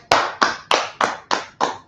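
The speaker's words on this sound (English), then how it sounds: "Clap it up for the class." Group clapping in a church gathering, seven sharp, evenly spaced claps in unison at a steady rhythm, close and clear with no talk.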